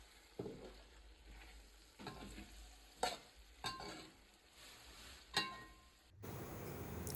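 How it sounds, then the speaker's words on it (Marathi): Green masala paste for an Aagri-Koli village prawn curry cooks in oil, with a faint bubbling sizzle broken by several soft spoon scrapes and clinks, close but quiet, ending in a sudden louder burst of noise. "वाटण जोपर्यंत तेल सोडत नाही तोपर्यंत वाटण तेलावर शिजून द्यायचं आहे"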